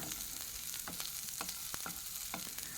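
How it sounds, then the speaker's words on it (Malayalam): Garlic and shallots sautéing in a pan, a faint steady sizzle broken by light scraping stirs every half second or so, close by with no talking. "ഇവ രണ്ടും ഒന്ന് വഴറ്റിയെടുക്കാം"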